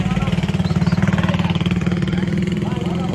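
A BMW F800 motorcycle idles with a loud, rapid, pulsing exhaust beat close to the pipe, the throb steady throughout as someone talks over it.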